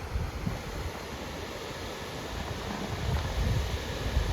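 Water falls strongly at a large river among hills, a loud continuous roar and rush that swells toward the end, mixed with wind.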